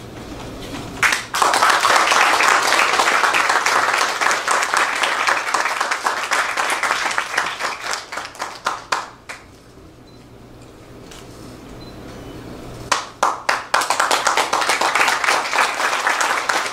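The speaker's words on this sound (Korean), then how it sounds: "졸업하시는 분들에게 다시 한번 큰 박수 부탁드립니다." An audience at a Presbyterian seminary graduation ceremony in New York applauds the graduates loudly. The applause swells, fades to near silence, then erupts again in a second burst.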